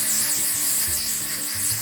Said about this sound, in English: I sanded this gear all the way down to a 320